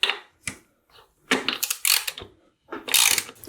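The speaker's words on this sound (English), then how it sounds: "you can actually remove the bolt that's holding your rear caliper bracket on" A wrench works loose the rear caliper bracket bolt on a Yamaha Warrior 1700 motorcycle, giving sharp, close metallic clicks and ratcheting bursts in an irregular rhythm with short pauses between them.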